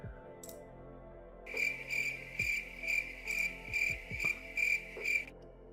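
A cricket chirps in rapid pulsed bursts, about nine evenly spaced trills in a steady rhythm, close and clear over a low background hum, stopping just before the end.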